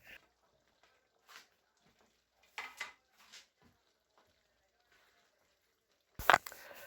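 A spoon scraping and knocking in a pot as turkey meat is stirred into gumbo, a few soft scattered clinks and shuffles with long quiet gaps, then a sharp louder metallic clatter near the end.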